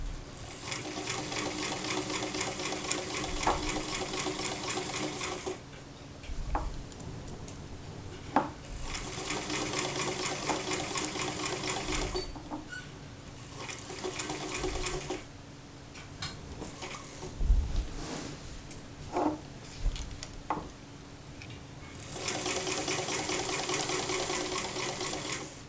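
A home sewing machine runs a double needle through fabric for a McCall's 8255 top, whirring in several steady bursts separated by pauses with small clicks and handling noises, close and fairly quiet.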